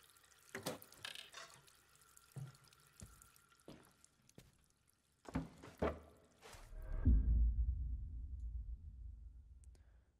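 Water in Layers of Fear 2: scattered drips and small splashes, then a heavier pour or faucet-like stream swelling in for the last few seconds, quiet overall with no talk.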